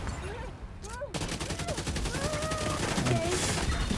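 A video game assault turret lets loose a fast, sustained burst of automatic gunfire. The dense volley of close shots runs under chirping, synthetic game tones.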